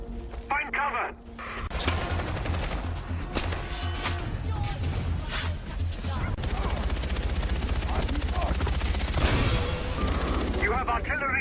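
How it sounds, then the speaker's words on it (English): Artillery and gunfire in Far Cry 4, a dense, continuous barrage of booms and rapid shots with scattered sharp cracks, loud and close, under game voices talking. "Ajay, you've got artillery incoming"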